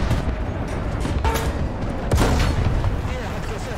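Tank cannon fire in World of Tanks booms amid dense battle noise, with a couple of heavier shots standing out over a constant rumbling din and someone talking throughout.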